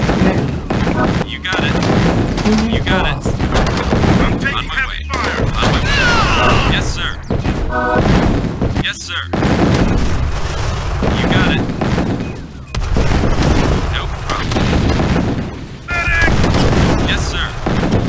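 Gunfire and explosions in the video game C&C Tiberian Sun, a GDI mission: dense continuous battle noise with booms and rattling shots, loud and busy, with short unit voice responses over the top.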